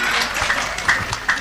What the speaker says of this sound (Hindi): जोरदार ताली बजा करके स्वागत करें कवि जी का।